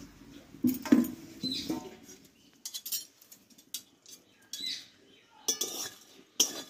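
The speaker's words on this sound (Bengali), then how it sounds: "রুটিগুলো কিন্তু আমি 2 পিস ভালোভাবে দেখো সেকে নিয়েছি, আর কতটা শক্ত হয়েছে আওয়াজটা শুনলে তোমরা কিন্তু বুঝতে পারবে" Hard, crisp toasted bread slices tapped and knocked together in a kitchen, making a scatter of small dry clicks and brittle knocks in irregular bursts, fairly close and quiet.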